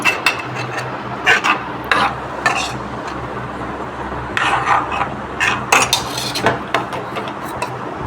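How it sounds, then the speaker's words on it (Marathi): A spoon stirs and clinks against a metal cooking pot while leftover buttermilk goes into a South Indian puri chutney, giving scraping and light metallic taps in uneven bursts, close and fairly loud, with no talking. "आता मी राहिलेलं ताक पण याच्यात घालत आहे."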